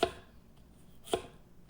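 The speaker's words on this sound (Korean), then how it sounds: "양파도 조금 다져주시고요" Two sharp knife chops mincing onion on a cutting board, spaced about a second apart, in an otherwise quiet room.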